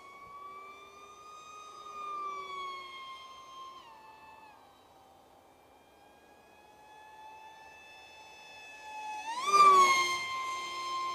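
An RC slot park jet motor spinning a Gemfan Hurricane prop, a RC InPower GTS 2306 2750 kV motor driving it: a steady whining tone that dips, holds, then climbs in a sharp, loud rev near the end.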